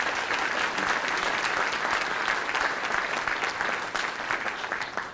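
Guests at the IMA 36th Annual Gala at the Halls of St George give three honourees a big round of applause, a dense, even wash of clapping from a full room that holds steady before easing off slightly.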